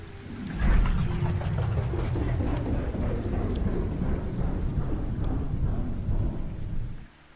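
Heavy rain pours steadily under a deep, rolling rumble of thunder that swells early and lingers throughout before cutting off near the end.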